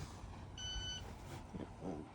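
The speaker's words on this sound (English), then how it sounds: "Depth alarm barking on the GPS." A GPS depth alarm on a 2015 Tahoe 500 TF boat sounds a steady electronic beep for about half a second over a low engine hum and water noise.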